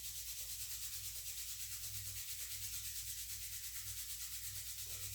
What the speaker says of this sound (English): take palm to palm compression, and then I want you to rub vigorously, building some intensity in the palms